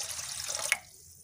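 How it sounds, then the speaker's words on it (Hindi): About half a cup of water is poured into a pot holding a litre of milk for strong tea, a short close splashing stream lasting under a second that stops with a small drip. "आधा कप मैं इसमें पानी शामिल करूंगी।"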